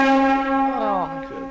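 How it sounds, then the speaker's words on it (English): A signal horn blown during a tabletop game session, heard as a single loud, sustained horn-like tone lasting over a second that bends downward and fades at the end. "They sound the horn of Kai"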